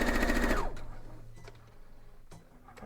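A sewing machine runs in a short fast burst of stitching on a quilt block, loud and close, then stops and leaves quiet rustling and small handling sounds.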